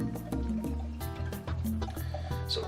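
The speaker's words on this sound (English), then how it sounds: "So pouring it in already." Petrus Belgian sour ale poured into a glass, gurgling and glugging in uneven bursts with a rising fill tone, close and clear, no talking.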